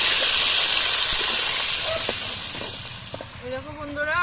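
Salted, turmeric-coated potatoes fry in hot oil for a Bengali fish curry, a loud, steady hiss of sizzling that fades slightly, with a voice talking briefly over it.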